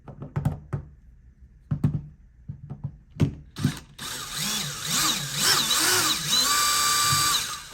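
A power drill runs in reverse backing screws out of a Schlage deadbolt lock, first a few short clicking taps, then a steady whirring spin with rising and falling pitch, close and loud.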